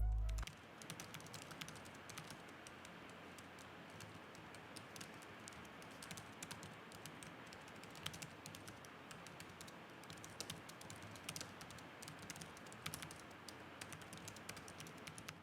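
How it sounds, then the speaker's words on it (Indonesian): Continuous fast typing on the compact keyboard of a GPD Pocket 3 mini laptop, quiet soft clicky keystrokes in a steady even patter with no talking. "contoh suara feedback dari keyboard laptop GPD Pocket 3"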